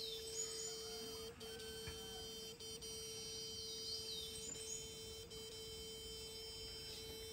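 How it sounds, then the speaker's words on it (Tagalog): Steady electric hum from electrofishing gear shocking a river, a constant tone running unbroken throughout with faint bird chirps and rustle around it. "dinig na dinig nyo po yung tunog ng current ng kuryente"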